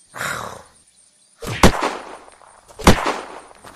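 Semi-automatic hunting rifle in the Unturned video game, fired at an unarmored zombie: two sharp, loud shots about a second apart, preceded by a short burst of noise.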